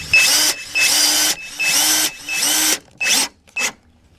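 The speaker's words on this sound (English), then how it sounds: "Now we can place the Torx bolts in there and get this piece fastened down." A power driver sending Torx bolts into real hardwood window trim, six close bursts of high whirring, the first four long and steady, the last two short, with brief silences between them.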